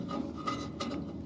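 A hand file scrapes burrs off the metal frame of a car hauler trailer, making a few short, close rasping strokes in quick succession.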